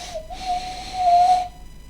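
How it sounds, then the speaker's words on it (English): A steam engine's warning whistle on a narrow-gauge railway sounds as a loud, clear sustained tone, a short blast followed by a longer one, with no voices. "The driver gave a warning blast on the whistle."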